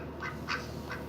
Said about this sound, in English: I do have a duck